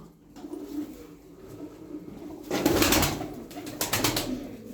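Tumbler pigeons kept for flying coo in soft, low repeated calls close by, followed by a louder burst of wing flapping and shuffling among the birds.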